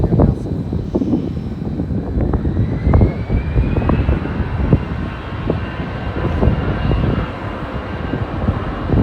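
An F-22 Raptor fighter jet and a Frontier Airbus A321neo fly over at Norfolk International Airport, with a steady broad engine roar and rising whine filling the scene and wind buffeting the microphone.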